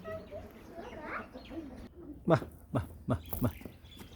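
Domestic pigeons kept for sale give a few low, soft coos in short pulses near the end, following talk at the start.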